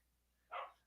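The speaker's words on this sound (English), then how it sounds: "The dog's barking right now." A dog barks once, a single short yip in the background of a quiet room.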